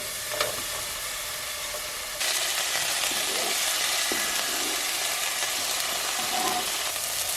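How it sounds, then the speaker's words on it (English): One cup of diced white onions drops into hot garlic and olive oil, and a constant pan hiss suddenly swells into a louder, fuller sizzle that holds steady, close by. "Now I'm going to go ahead and add my 1 cup of white diced onions."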